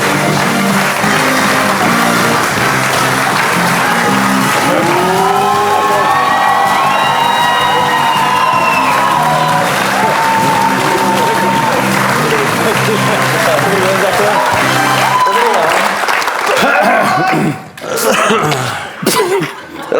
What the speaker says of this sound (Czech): Verím, že ho privítate obrovským burným potleskom.